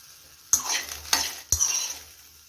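Green peas being dry-roasted in a kadhai over a gas flame, with three sharp scraping stirs of a spoon against the pan spaced about half a second apart, each followed by a soft rattling sizzle.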